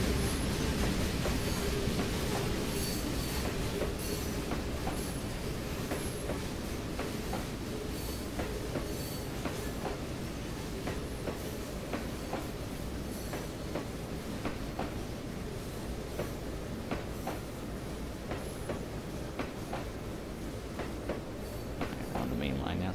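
A train rolls along a main line with a continuous rumble and repeated clickety-clack of wheels over rail joints, steady and close throughout, with talk heard over it.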